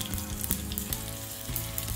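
Dried red chilies, mustard seeds, asafoetida and curry leaves crackle and sizzle in hot ghee, with sharp popping bursts over a steady frying hiss, close by.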